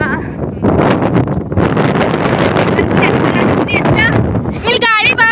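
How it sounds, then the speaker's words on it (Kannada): Strong wind buffets the microphone in a village farm field, a loud, rough rumbling roar with shifting gusts that nearly swamps a voice talking underneath. "ಇಲ್ಲಿ ಗಾಳಿ ಭಾಳ ಐತ್ರಿ ಗೈಸ್ ಮಾತಾಡಕ್ ಆಗಾಕತ್ತಿಲ್ಲ"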